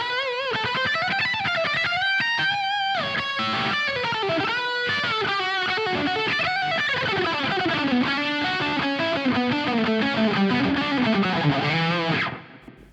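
Electric guitar lead played through an ENGL E530 preamp with reverb, sustained melodic lines with moderate gain and a lush tail, loud and continuous before cutting off near the end.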